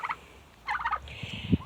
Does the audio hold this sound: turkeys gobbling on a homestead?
yes